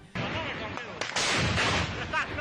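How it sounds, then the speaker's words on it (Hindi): Gunfire in a border clash at Torkham between Taliban fighters and Pakistani troops, sharp bursts of loud shots in quick succession, harsh and close, filling the short stretch. "तोरखम बॉर्डर पर इस वक्त तालिबान और पाकिस्तान के बीच जबरदस्त फायरिंग हो रही है।"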